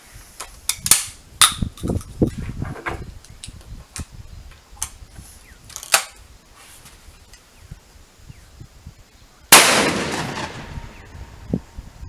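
Gunshots fired through a chronograph for a bullet speed test: several sharp, moderately loud cracks spaced irregularly, ending with one much louder blast followed by a decaying rumble.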